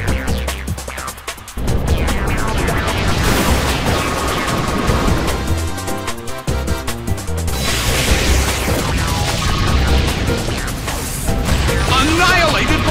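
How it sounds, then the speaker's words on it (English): An Explosion attack in the Pokémon Battle Revolution video game, with loud crashing booms and a rumbling blast layered over game music, continuing for several seconds at full volume. "Annihilated by explosion!"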